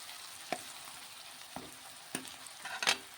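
Garlic cloves frying in a pan for a village-style spring onion and sesame fry, a faint quiet sizzle with a few sharp scraping stirs spaced out across the moment.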